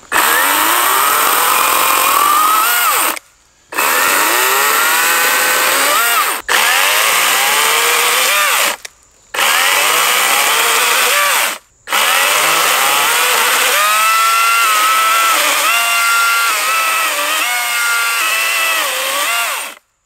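An electric chainsaw revs loudly and cuts through a 3-inch log in several bursts separated by short silent pauses, close and dominant with no talking.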